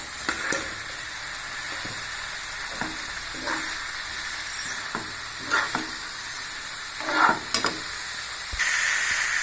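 Steady close sizzle of cauliflower tossed into a hot frying pan with garam masala and spices for cauliflower varuval, broken by several sharp stirring scrapes and a louder crackle near the end, with no talking.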